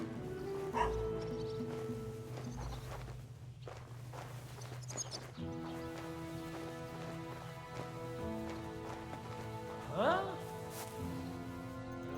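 A dog in the medieval video game Kingdom Come: Deliverance 2 yips and whimpers among footsteps and background game ambience, with a brief rising whine near the end.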